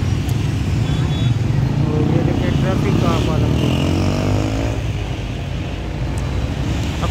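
A heavy GMC U15 diesel locomotive roars loudly and steadily at full power as it approaches on a busy Pakistani street crossing, with a deep rumble and a few faint tonal swells, and voices underneath.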